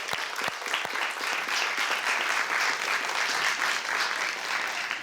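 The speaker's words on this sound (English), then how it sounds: "Let's hear a round of applause for Washington Liberty." A studio audience at the televised high-school quiz show It's Academic applauds the Washington-Liberty team, with dense, even clapping at a steady moderate volume throughout and a few sharper claps at the start.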